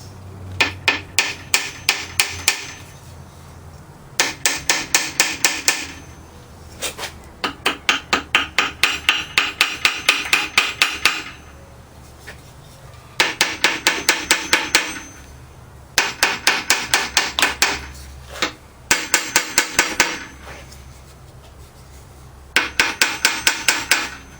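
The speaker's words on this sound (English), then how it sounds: "A little hammer. See, we'll give it a couple taps." Repeated bursts of quick metallic hammer taps on an engine cylinder head in rhythmic clusters with short pauses between, close and fairly loud, no talking. The engine is a Hercules 2 1/2 HP.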